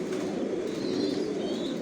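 Racing pigeons coo in a loft as a steady, dense, low burbling drone. The sound is close and continuous, with no talk over it.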